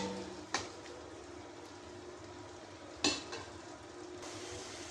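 Tomato and spice masala for a prawn curry frying quietly in a pan, a soft steady sizzle broken by two sharp scrapes of a spoon against the metal.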